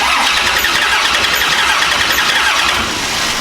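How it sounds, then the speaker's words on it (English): Big-block engine in a nitrous Chevy Nova cranking with an odd sound, a loud, dense, continuous mechanical roar held close up for the whole stretch, with no clear rhythm or pause. "it had that weird sound when we was cranking it"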